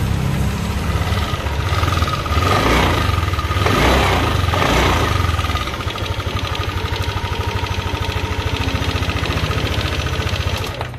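A Yamaha Aerox scooter engine runs close and steady after a starter repair, with a buzzing idle that rises briefly in revs and then settles into an even, pulsing hum.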